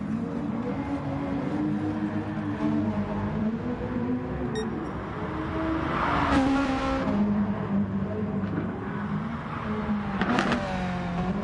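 Race car engines in a sim racing game, a steady layered drone of several cars with rising revs near the hairpin and occasional swells as cars pass, continuous throughout with no talk.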